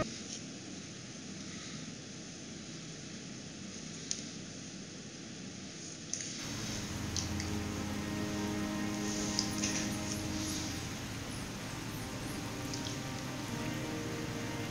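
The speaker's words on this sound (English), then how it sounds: "Biblical rain pummels the city, but the stains remain." Steady rain pours down in a continuous hiss with scattered drops over a city in the video game Calvino Noir, holding at an even level and thickening slightly partway through.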